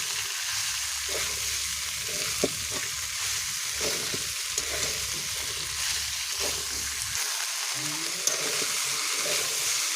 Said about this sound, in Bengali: এবার পুঁই শাকের ফল আর আলু দিয়ে ভালো করে নেড়ে চেড়ে মিশিয়ে নেব।